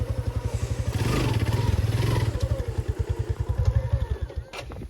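A motorbike engine putters close by with a fast, regular exhaust thump, swelling as it revs and pulls away, then fading toward the end.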